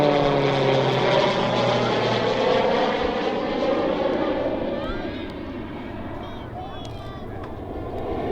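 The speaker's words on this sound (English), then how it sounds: "push the aircraft into a max rate steep turn" A RAAF Roulette propeller training aircraft pulls a tight max-rate steep turn at an air display at RAAF Base Point Cook, its engine droning loudly and steadily overhead before easing slightly as it banks away.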